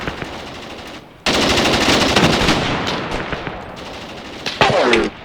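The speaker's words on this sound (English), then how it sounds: "Turn a machine gun on them." Machine-gun fire in the war game Graviteam Tactics comes as long, loud sustained bursts of rapid shots after a brief lull, with a few scattered pops near the end.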